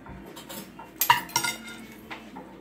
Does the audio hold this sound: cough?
no